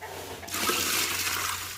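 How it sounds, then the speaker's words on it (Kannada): Water is poured into a pot of soaked basmati rice for bamboo biryani; after a brief quiet moment a loud rushing gush starts suddenly and continues steadily to the end. "ಇದಕ್ಕೆ ಈಗ ನೀರು ಹಾಕ್ತೇನೆ."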